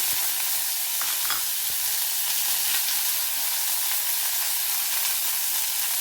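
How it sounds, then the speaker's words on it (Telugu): Mustard seeds, cumin and curry leaves sizzle in hot oil for a methi tomato curry, a steady bright crackling hiss with small pops, close and constant without any talking. "నూనె బాగా కాగిన తర్వాత ఆవాలు కొంచెం వేసుకున్నాను. తర్వాత జీలకర్ర కొంచెం వేసాను. తర్వాత కరివేపాకు కొంచెం"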